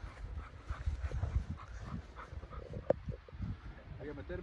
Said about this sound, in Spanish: Voy a meterme con mi perro, el Jackson.